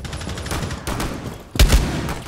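Gunfire in Rainbow Six Siege: a dense rattle of shots under game ambience, followed by a sharper, louder burst near the end, close and punchy.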